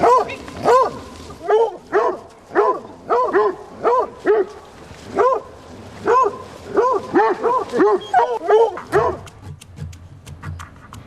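Dogs of several working breeds barking in a steady run of loud, close barks, some sharp yips and whimpers mixed in, with a brief low voice near the end.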